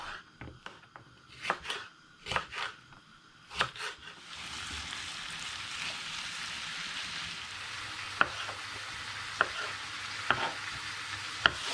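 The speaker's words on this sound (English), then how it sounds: "It's now beginning to sizzle and I don't want it to burn" Chicken and mango curry sizzling and frying in a pan, a steady hiss that settles in after several sharp clinks and stirring knocks, with occasional utensil taps cutting through.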